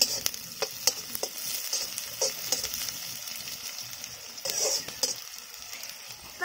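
Onion and garlic fry with popped mustard seeds in a pan, giving a soft, steady sizzle with intermittent stirring scrapes and clicks, close and fairly quiet with no talking.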